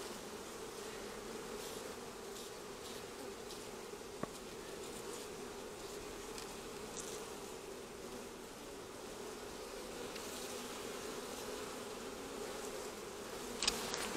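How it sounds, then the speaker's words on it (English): Honeybees swarm and buzz around an open hive while it is being handled, a steady, dense drone that holds near and constant throughout, with no talking. "a lot of bees"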